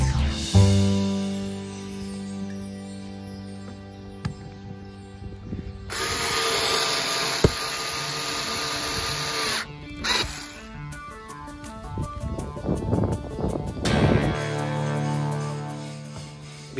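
Power screwdriver driving stainless steel screws into a caravan, with whirring bursts of varying length close up, surrounded by handling and background noise.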